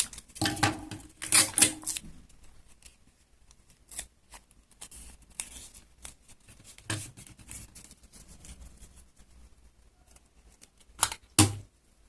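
Scissors snip through paper while cutting out pieces for a handmade paper boxing action figure, a few close, crisp clusters of cuts with quiet pauses between them.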